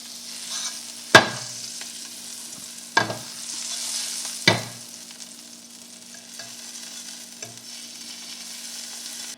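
A small piece of scallop sears in hot butter in a pan, giving a soft, steady sizzle broken by a few sharp knocks and clatters from the pan and utensil.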